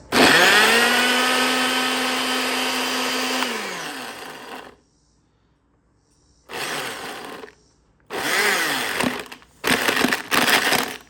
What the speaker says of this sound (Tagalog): Blender natin to.